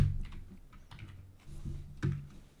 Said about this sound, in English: let me bust out my my trusty keyboard